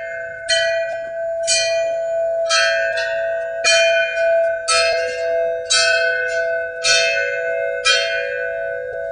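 Elephants strike metal percussion, ringing bell-like strokes recurring roughly every second over a sustained tonal drone, loud and close with no talking.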